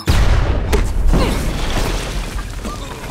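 A grenade blast in a Deadpool 2 superhero action scene, a loud booming burst opening the moment and rumbling on with crashing debris and mechanical clatter under a dense, sustained roar.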